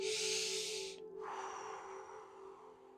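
Deep breaths during a guided spikenard sacred oil ceremony: a loud, airy inhale-like rush, a brief pause, then a longer softer exhale, close and alone.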